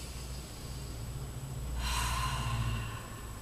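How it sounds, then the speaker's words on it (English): One deep breath drawn in strongly, a rushing inhale that swells midway and fades out, close and fairly loud over a quiet room background. "So when you take a deep breath, you get the..."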